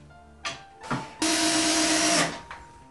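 Power drill driving screws to refasten the roof of a wooden owl box: two short whirring blips, then a longer steady high whine of about a second, and a final brief burst, close up.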